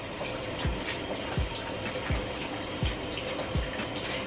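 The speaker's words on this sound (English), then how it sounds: "Once I rinsed all of that shampoo out, I just kind of squeeze out the" Steady running, splashing water flows continuously as water is squeezed out of wet curly hair during a wash, with soft drips and a few low plops spaced about every second, close and without talk.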